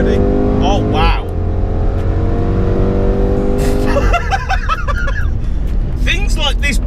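Range Rover SVR accelerating in sport mode, a deep engine roar with sharp pitch swings as gears change, loud throughout, with brief excited voices.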